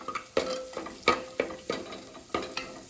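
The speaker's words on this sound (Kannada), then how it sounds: "ಇದನ್ನು ಸರಿಯಾಗಿ ಸ್ವಲ್ಪ ಫ್ರೈ ಮಾಡಬೇಕು" Curry leaves frying in a clay pot, with a spatula scraping and knocking against the earthenware in repeated strokes over a quiet, soft sizzle.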